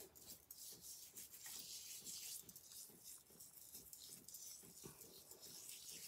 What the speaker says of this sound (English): Just scrub away.